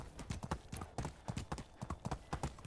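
Horse hooves clip-clop in steady, quick beats at a moderate distance in the medieval game Medieval Dynasty, alone without talk.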